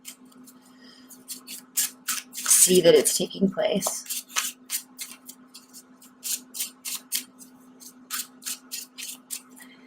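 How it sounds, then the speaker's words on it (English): Tarot deck being given a quick extra shuffle by hand, a burst of riffling, flicking card sounds close up, with a person talking over it before and after. "I'm going to do a really quick additional shuffle"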